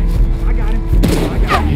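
Gunfire in the video game Red Dead Redemption 2, a couple of loud close booming shots in a quick burst, with in-game voices shouting around them.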